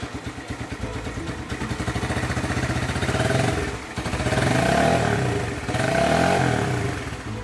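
A motorcycle engine, reportedly running on water instead of petrol, starts and idles with a steady chug, then revs up in two loud surges, close by with no talk over it.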